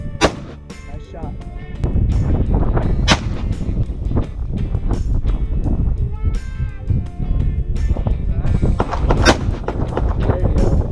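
Loud gunshots crack out at uneven intervals, some sharp and close, others booming with echo, over an outdoor shooting backdrop with occasional voices mixed in.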